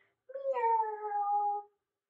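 A person imitates a cat's meow during a kids' yoga cat stretch, giving one drawn-out, close, clear vocal meow of about a second and a half with no other sound.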